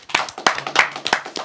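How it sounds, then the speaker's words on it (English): A small group of people clapping indoors after tasting spicy food, quick uneven claps close by, loud and dry, with no talk over them. "Round of applause."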